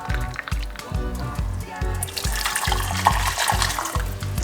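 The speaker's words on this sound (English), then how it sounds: "So we got the medium sized pot, and I'm going to start off the process with a cup of water." Hot water pours steadily from a cup into a medium-sized pot, a continuous close splashing and gurgling stream that lasts for several seconds with no voices over it.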